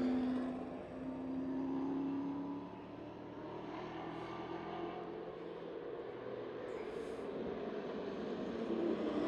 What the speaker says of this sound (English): As the 21 car field motors under the flag stand.